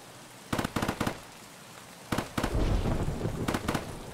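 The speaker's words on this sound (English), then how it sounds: "Only thing I know is that we're moving towards the gunfire" Distant gunfire in the video game Escape from Tarkov: short clustered bursts of sharp cracks, a quick triple volley, then further irregular bursts after a pause, muffled and echoing over quiet ambient background.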